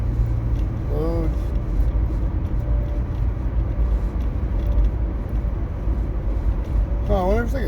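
Steady droning buzz from under the dashboard of a 2006 second-generation Toyota Prius, continuous throughout under road and cabin noise, with a faint high-pitched whine and brief voice sounds.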